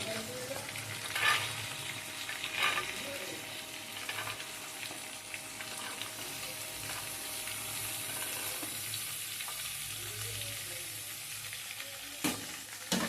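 Soft, steady sizzling of chopped carrots frying in a pan for fried rice, with a few clinks and stirring sounds, faint and continuous with no talking.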